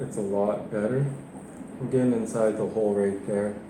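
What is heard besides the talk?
No distinct noise like a dog, phone or traffic.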